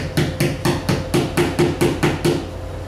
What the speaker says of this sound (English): this PVC pipe can serve as a hammer for you